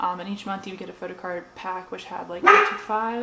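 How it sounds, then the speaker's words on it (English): A dog barks loudly once in the middle of steady talking, a sharp close bark breaking over the voice. "Sorry about my dog."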